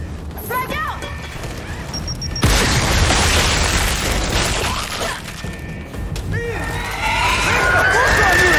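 A frag grenade blast in Gears of War 5 hits with a sudden loud burst that swells into dense rumbling debris, set amid ongoing battle clatter and a second surge later, with voices shouting nearby.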